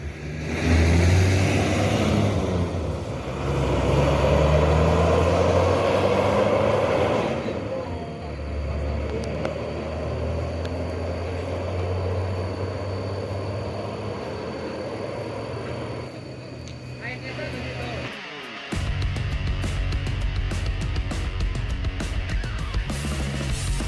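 Cars racing each other on a race track, with a loud sustained engine roar sweeping past up close, dropping to a steadier drone, then a sharp cut and a fresh burst of engine noise near the end.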